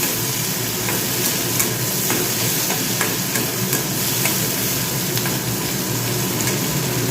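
Food sautés in a hot pan with a loud, continuous sizzle, close by and unbroken, overlaid with light stirring scrapes and small crackling ticks.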